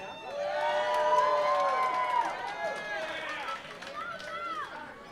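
A wrestling event crowd cheers and whoops for Lewis the Nerd, a loud, sustained roar of many voices with rising and falling shouts throughout.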